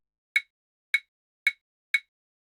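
Four placeholder hit sound effects for a fight scene, short sharp identical impacts spaced about half a second apart, crisp and dry against total silence.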